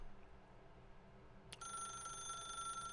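A telephone in The Stanley Parable video game begins ringing midway, a steady electronic bell tone that cuts in abruptly after quiet room hiss and holds on.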